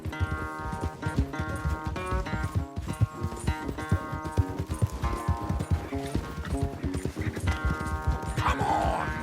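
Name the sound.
horses galloping in race, Red Dead Redemption 2 video game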